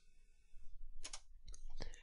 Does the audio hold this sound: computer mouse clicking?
yes